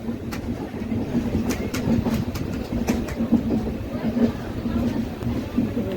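A superfast express train runs steadily along the tracks, heard from a general coach, switching tracks with a rhythmic clatter and sharp intermittent clicks, while voices talk over the rumble.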